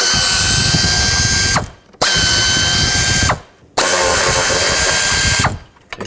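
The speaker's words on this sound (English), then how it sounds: "now I'm just gonna unbolt this whole bracket off of the intake" A hand ratchet loosens 10mm bolts from an intake bracket on a 1997-2003 Ford F-150, three long bursts of rapid, loud, close clicking, each ending in a brief pause.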